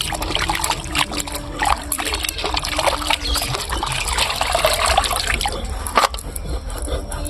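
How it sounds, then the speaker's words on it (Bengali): Goat meat rinsed under water, a steady trickling and splashing of liquid with occasional sharper drips, fairly close and continuous, no voices. "মাংসগুলো এখন সুন্দর করে ধুয়ে নেই বন্ধুরা।"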